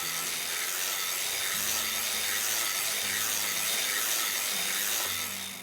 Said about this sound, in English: I'm going to crank a few rows of waste yarn.